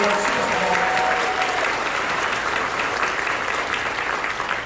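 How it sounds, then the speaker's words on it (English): An audience at a school winter choir concert claps steadily and warmly, a dense wash of applause that holds for several seconds and tapers slightly at the end. "Give these folks a round of applause."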